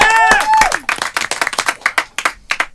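Studio audience on a Christmas special talk show applauding, loose rhythmic clapping that thins into separate claps, with a voice and a brief musical tone at the start.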